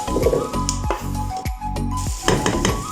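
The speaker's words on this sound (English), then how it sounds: "once onions have started frying up" Onions sizzle in a hot pan, crackling continuously while a utensil stirs and scrapes against the metal in quick strokes.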